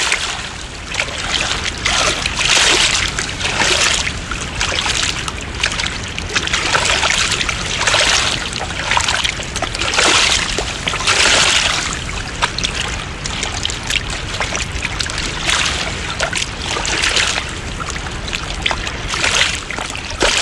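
The river beside the Sandstone Falls trail in New River Gorge rushes and gurgles in a continuous nearby wash, with brighter splashy surges coming and going throughout.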